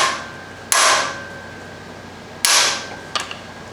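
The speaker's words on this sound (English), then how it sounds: "give it a good whack" A hammer strikes a wrench on a John Deere 212 mower bolt to break it loose: two loud metallic whacks with ringing decay, then a lighter double tap close by.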